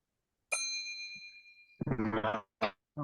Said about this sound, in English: It took you 8 years just to ring the goddamn bell.